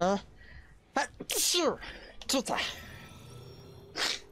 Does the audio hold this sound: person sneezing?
yes